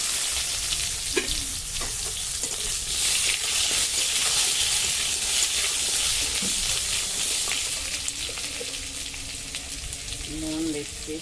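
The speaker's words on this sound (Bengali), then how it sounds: "এবারে আমি আলুগুলো ঢেলে দিচ্ছি, আলুগুলো দিয়ে দিলাম।" Potatoes go into hot oil in a village kitchen and fry with a loud, continuous sizzle and hiss, with occasional stirring clatter up close.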